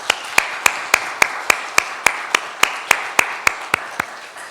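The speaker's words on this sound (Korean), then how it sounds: "이들을 위해서 감사의 박수 한번 하겠습니다" A church congregation claps in thanks during a Sunday service, a steady, evenly paced run of sharp claps over a soft hiss of the room that fades at the end.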